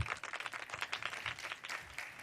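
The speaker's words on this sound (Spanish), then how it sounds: "La recibimos con un aplauso." A conference audience claps briefly to welcome a panelist at an innovation summit, a quiet scatter of separate hand claps heard at a distance, thin and low in level across about two seconds.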